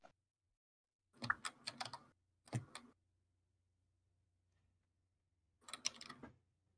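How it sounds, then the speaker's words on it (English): Bursts of clattery typing on a noisy computer keyboard, three separate flurries of rapid keystrokes with quiet gaps between, fairly close and alone. "Yeah, my keyboard's as noisy as that."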